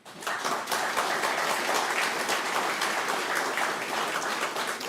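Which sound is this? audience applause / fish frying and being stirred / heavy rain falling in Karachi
audience applause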